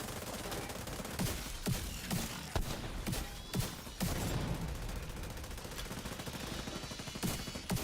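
Shotgun blasts and automatic gunfire in a video game, a dense fusillade of sharp shots about every second layered over constant rattling fire and loud combat noise, with no voices.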